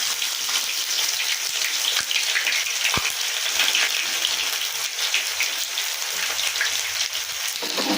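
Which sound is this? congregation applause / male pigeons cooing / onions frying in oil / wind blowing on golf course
onions frying in oil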